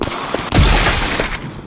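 Gunfire in a scary multiplayer video game, a loud booming shot followed by a rumbling decay over a short burst of sound.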